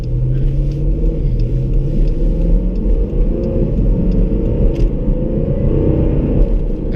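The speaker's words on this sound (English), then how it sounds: "I know this car sounds kind of crazy" A car engine rumbles steadily and loudly from inside the cabin as the vehicle pulls out into traffic, a deep continuous drone with shifting pitch and no talking.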